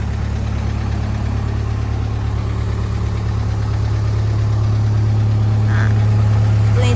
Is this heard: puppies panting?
no